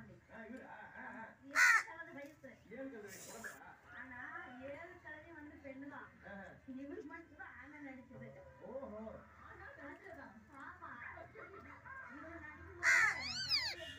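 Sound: crow cawing

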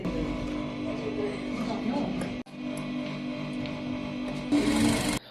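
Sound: sewing machine running

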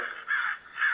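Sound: crow cawing

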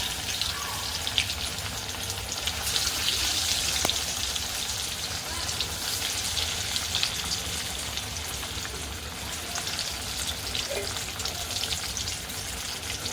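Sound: alu vadi (colocasia rolls) frying in oil

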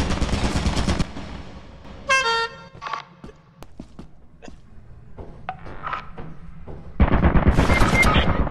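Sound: turret firing in video game Lethal Company

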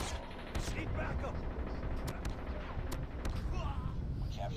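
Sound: gunfire in Call of Duty Mobile video game

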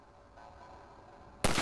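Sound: rifle shot at a latch, from video game Half-Life 2

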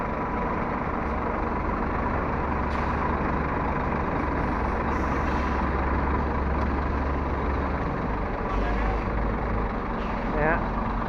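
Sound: truck with trailer reversing

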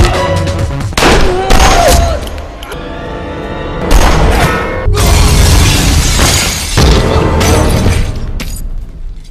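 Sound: gunfire in a film shootout scene

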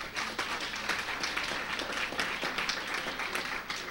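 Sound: applause

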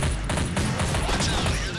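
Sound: gunfire from a video game (Nightmare House)

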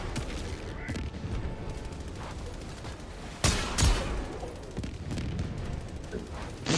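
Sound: gunfire in video game Helldivers 2

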